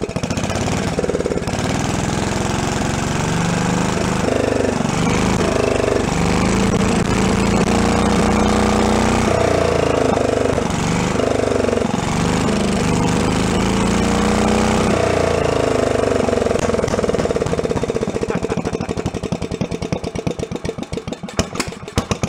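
Homemade tractor engine, running without its air cleaner, rumbles steadily at idle and swells through several revs over about twenty seconds, loud and close, then drops away near the end.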